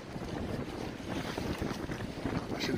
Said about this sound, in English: It's windy today, y'all.